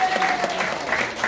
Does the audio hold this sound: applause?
yes